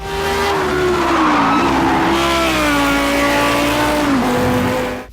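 Race cars in the Project Cars 2 video game, one engine loud and up close with a sustained high whine that rises and falls through gear changes, with a drop in pitch near the end over a constant rumble.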